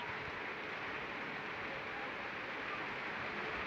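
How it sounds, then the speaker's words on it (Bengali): Steady broadband rain hiss, a continuous wash of falling water with no distinct drops or breaks, moderately quiet and unchanging throughout. "বৃষ্টি নেমে যেতেছে"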